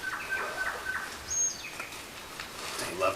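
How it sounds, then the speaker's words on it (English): Birds sing and chirp in bush along the Munda Biddi trail near Dwellingup, with thin repeated whistles and trills at a moderate distance over a soft, steady outdoor background. "I love those birds."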